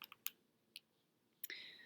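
Calculator keys click a few times, sparse and faint in a quiet room, while a number is typed in; a brief higher tone follows near the end.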